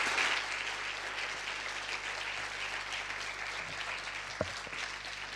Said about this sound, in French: Je vous demande d'applaudir vos invités ce matin.